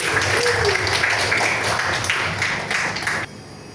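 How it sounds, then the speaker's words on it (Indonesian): Audience applause breaks out for a student in a coding and artificial intelligence class, a dense steady clatter of many hands clapping for about three seconds before cutting off abruptly. "Kasih tepuk tangan dulu untuk Tirti"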